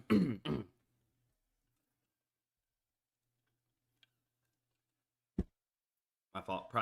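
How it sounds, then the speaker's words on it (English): A person clears their throat twice in quick, close, rasping bursts, then near silence broken by a faint tick and a single sharp click, before speech resumes at the end. "Cannot clear my throat right now"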